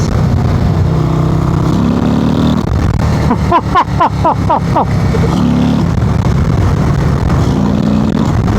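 A 2024 Harley-Davidson Road Glide CVO ST Stage IV 135 on the move, its loud low engine rumble steady under wind roar, with a short run of rapid pulsing in the middle as the throttle rolls on.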